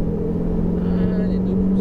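A Ferrari 488 GTB engine pulls steadily back onto the throttle on a race circuit, a sustained low drone with a faint rising tone, heard under an instructor's continuous talk.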